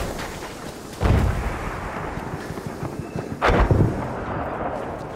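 Two heavy, booming shots crack out about two and a half seconds apart amid a Battlefield 1 battle on the Amiens map, loud and close over a steady rush of wind and distant rumble.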